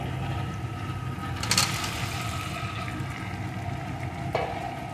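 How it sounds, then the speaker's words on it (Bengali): Fried potatoes and soybean chunks are sautéed in spice masala, giving a low, steady sizzle with occasional scraping stirs and a brief metallic clink. "মশলার সাথে আলু সয়াবিনটাও আমি একটু কষিয়ে নেব।"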